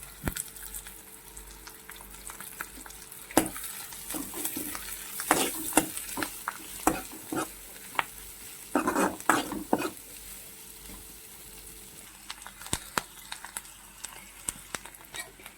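Cabbage and curry leaves stir-fried in a pan for Hakka noodles, with a steady sizzle under frequent scraping and clinking stirs, a few louder bursts of spatula against metal, close and with no talking.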